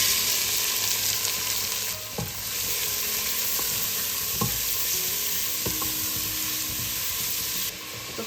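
Onions fry in hot oil with asafoetida and cumin in a pot, cooking for chole. The sizzle is loud, dense and steady, with a few sharp clinks from stirring.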